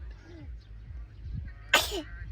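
One sharp, loud sneeze bursts out close by during a birthday outing, rising abruptly over a quiet background of low murmuring voices.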